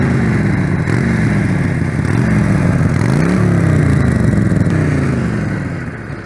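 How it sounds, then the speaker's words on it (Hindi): A Harley-Davidson 883 Super Low motorcycle exhaust rumbles loud and close, idling deep then revving up and easing back down once, steady throughout. "अच्छा, आपको एग्जॉस्ट नोट सुनने को देता हूँ।"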